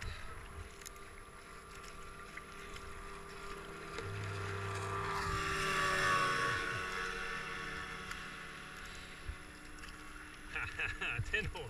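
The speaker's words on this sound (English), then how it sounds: "is the next powerboat. Powerboat number 11." A racing powerboat on a river at the Avon Descent, a distant engine drone that swells to a peak near the middle and fades again, with wind noise on the microphone.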